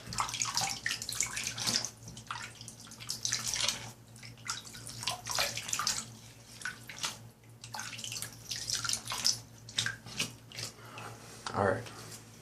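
Water runs from a tap while someone rinses their face before a shave with unscented vegan soap, a steady close splashing flow with small splashes and a low hum.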